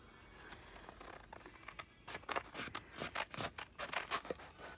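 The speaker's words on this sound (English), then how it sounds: "I'm going to take my handy-dandy scissors" Scissors cut paper for a scrapbook layout in a quick series of close, crisp snips and slicing sounds, faint at first and growing louder and denser.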